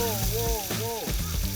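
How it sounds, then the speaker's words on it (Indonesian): Hand-pounded spice paste sizzles in hot oil in a wok, with a steady frying hiss running beneath a voice that talks throughout. "Setelah minyak panas, bumbu yang tadi aku tumbuk siap untuk dimasukkan ke dalam wajan."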